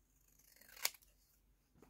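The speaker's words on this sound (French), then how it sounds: "je vais venir découper" A single quick snip of scissors cutting paper for a handmade sketch card, one crisp close cut near the middle of a quiet moment.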